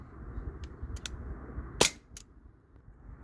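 A Glock 19 Gen 3 replica CO2 BB pistol in .177 caliber fires a single sharp crack, loud and close, with a few fainter clicks of the moving slide before and after over a quiet background.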